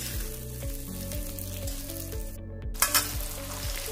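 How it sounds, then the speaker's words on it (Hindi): Bottle gourd pieces frying in oil toward golden brown, with a continuous crackling sizzle and a brief hush partway through, then sharper spits as frying resumes. "एक दो मिनट तक चलाते हुए गोल्डन ब्राउन आने तक इसको फ्राई कर लेंगे।"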